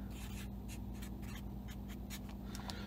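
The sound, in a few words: writing notes by hand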